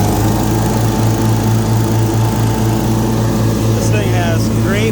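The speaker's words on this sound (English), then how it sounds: "You can just rev it right back up." A 61-inch Snapper Z Rider commercial-grade zero-turn riding lawn mower engine runs loud and close with a steady droning hum, revving slightly higher near the end.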